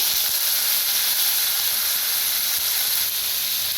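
Garlic and red chili roast in hot oil, a loud, continuous close-up sizzle and hiss that holds steady throughout, with no voices.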